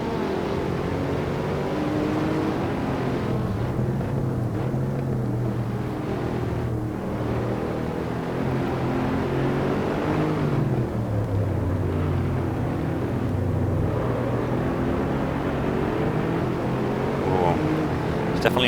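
A Mercedes SLS racing the Nürburgring GP circuit in the video game Assetto Corsa: a loud, continuous engine drone rising and falling through revs and gear changes, with someone talking over it.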